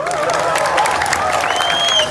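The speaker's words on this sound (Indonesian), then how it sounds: "Tepuk tangan untuk menabo" An audience at a Balinese Calonarang comedy performance in Tohpati village, Klungkung, breaks into a steady burst of clapping and cheering that holds for about two seconds, dense and close, with a few voices mixed into the crowd noise.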